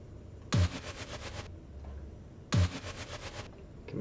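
Music with a sidechain compression effect, two loud percussive hits spaced about two seconds apart over a soft sustained background that dips and swells around each hit, no talk.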